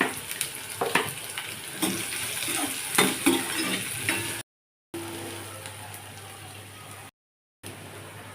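Chopped onion and green chili hit hot oil with mustard seeds in a wok, giving a loud, continuous sizzle with stirring scrapes and utensil clinks, broken by two short silent gaps.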